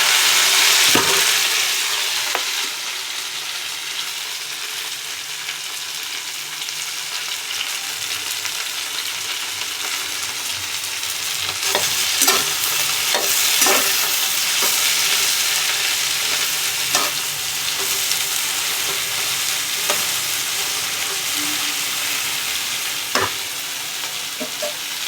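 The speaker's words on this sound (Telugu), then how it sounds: "ఇప్పుడు చూడండి, ఇక్కడ నూనె వేడెక్కింది. ఇలా వేసేయాలండి బెండకాయ." Okra frying in hot oil, a steady bright sizzle that fills the pan throughout, with scattered clicks and taps of stirring breaking through near the middle and end; no voices.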